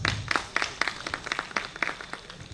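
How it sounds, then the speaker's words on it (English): A sparse audience claps after a talk at a technical lecture event, a small group whose individual claps stand out as distinct sharp hits in a loose, uneven rhythm, fairly close and moderately loud. "Please give him a round of applause."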